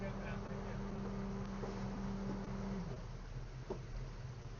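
Steady low engine drone of a Double 42 Aquila catamaran's motors with a humming tone, a bow thruster whirring in and out, fairly close, with faint voices in the background.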